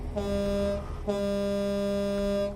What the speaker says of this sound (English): Let's honk for the Brontosaurus.